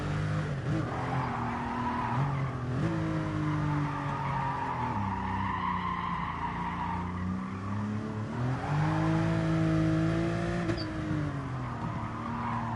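A race car engine from a video game time trial holds a steady, loud drone throughout, its pitch rising and falling through gear changes and corners, with tyre squeal mixed in and no talk.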